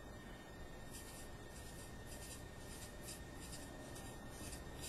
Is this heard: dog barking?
no